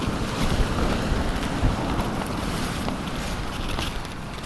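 Strong side wind buffets the microphone while sea fishing from the shore, a steady, loud rumbling roar with soft gusty swells and a faint wash of surf beneath, no voices.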